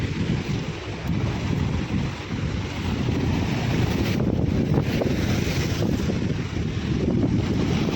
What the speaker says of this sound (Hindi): अशांत समुद्र